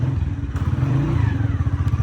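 Motorcycle engine running steadily and close by, with a continuous low throbbing idle-to-ride drone that stays loud throughout and no talk over it, in a Punjabi village setting.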